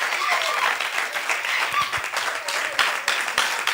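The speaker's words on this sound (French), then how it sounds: "Acclamez très fort pour les moniteurs." Applause and cheering for Sunday school monitors at a church event, a continuous crowd clapping under a voice, fairly close and steady.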